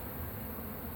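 Honey bees buzzing at a makeshift Langstroth bait hive in Lake Wales, Florida, a steady dense hum without pause.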